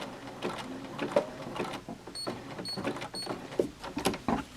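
A sewing machine stitches a fleece appliqué onto a blanket in short runs of rapid, rhythmic whirring and needle clatter, pausing and restarting repeatedly at moderate volume close by.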